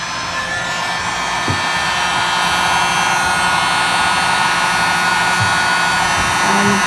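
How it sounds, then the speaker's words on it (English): A heat gun blows steadily on crayons for crayon art, a loud continuous airy whoosh with an even motor whine that holds for the whole stretch, a couple of faint knocks underneath. "the next step is the heat gun"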